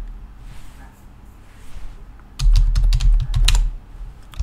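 Fingers type on a computer keyboard in short bursts of quick clicks, with a quiet pause before a denser, louder run of keystrokes close by.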